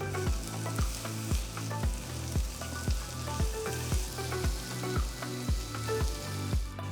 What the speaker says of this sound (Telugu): ఈ పాయింట్లో ఒక టీ స్పూన్ అల్లం వెల్లుల్లి పేస్ట్ వేస్తున్నాను